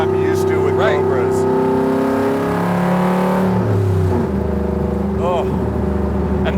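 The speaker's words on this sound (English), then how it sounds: "it sounds like a unique Cobra" Superformance MkIII Cobra with a 5.2 Aluminator engine revving loudly and close, the deep exhaust note climbing and falling through several throttle blips with a continuous burbling rumble underneath.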